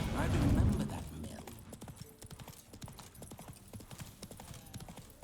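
Horse hooves clip-clopping in The Witcher 3: Wild Hunt, a steady run of close, quick hoofbeats after a brief louder burst at the start, with a voice talking over part of it.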